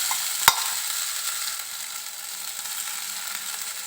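Washed lentils hit hot oil tempered with whole spices in a pan, giving a steady soft sizzle and frying hiss after one sharp clink at the start, with no talking.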